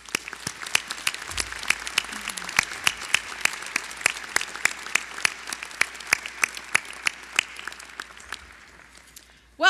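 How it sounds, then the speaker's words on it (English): Sustained applause fills a university commencement ceremony at Weber State University, a dense steady clapping from a large crowd that continues for nearly ten seconds before fading. "Let's give them a round of applause."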